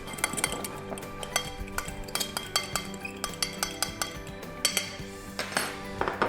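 A utensil whisking egg yolk with a little cream in a bowl for an egg wash, giving quick, steady clinking taps against the dish, close and moderately loud with no talking.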